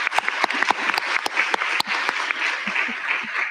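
Scattered applause from the audience at an annual town meeting, a few distinct claps and sharp bursts spread unevenly over several seconds, fairly close and thin rather than a full ovation.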